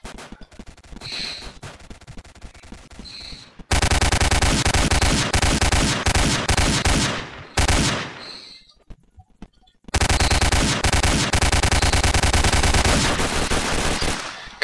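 Loud, dense automatic gunfire from the Roblox game Apocalypse Games rattles almost without pause in long bursts, broken by brief quieter gaps with scattered lighter shots.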